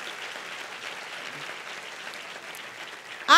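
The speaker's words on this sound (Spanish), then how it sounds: "Si usted quiere aplauda y si no, no." Church congregation applauding steadily, a dense even patter of many hands at moderate level, ending with a brief sharper sound.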